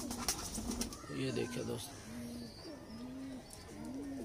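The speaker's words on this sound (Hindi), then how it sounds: "सलारे टेडी कबूतर, जेनवन सलारे टेडी कबूतर" Salara Teddy pigeons, a purebred pair, coo in repeated low rolling calls close by, with someone talking over the first part.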